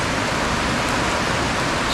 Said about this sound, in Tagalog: dito tayo inabot ng malakas na ulan sa Crown Fuel